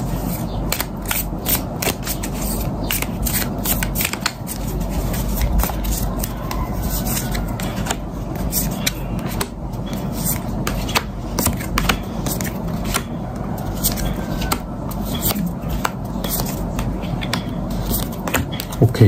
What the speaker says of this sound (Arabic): خليني طيب اسحب كروت توضيحية اكتر